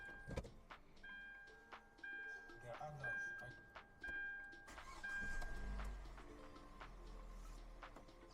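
A Hyundai iX35 2.0 engine cranks and starts after repeated dashboard chimes and clicks, then settles into a low steady idle; a voice speaks briefly in the background.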